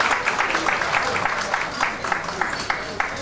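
Audience applause at an elders' honoring award ceremony, a steady patter of many hands clapping from a crowd, continuous and fairly loud with a voice faintly present underneath.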